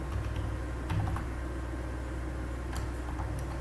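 Someone types a formula into a spreadsheet on a computer keyboard, scattered light key clicks over a steady low room hum, close and fairly quiet, no talking.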